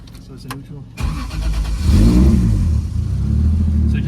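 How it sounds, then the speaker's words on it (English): A Lexus SC400 engine cranks and catches after a second, then revs up loudly with a rising, throaty roar and settles into a fast, rough idle close by. "when you start this car, you have to give it a little gas for it to warm up"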